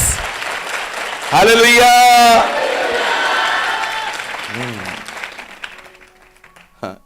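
Church congregation clapping together, a loud dense burst of applause rising suddenly and fading, with someone speaking over and around it.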